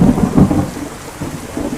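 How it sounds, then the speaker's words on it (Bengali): Thunder and rain from a sound-effects library: low rolling rumbles swell and fade over a steady patter of rainfall, loud and close, with no voices. "দেখুন বজ্রপাতের শব্দটা অল্প অল্প পাওয়া যাবে এখন।"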